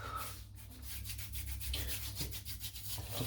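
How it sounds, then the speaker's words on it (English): Hands rub pre-shave oil into a freshly shaved head, making soft, close, repeated skin-on-skin rubbing strokes in a quiet rhythmic pattern. "Let's just rub this in."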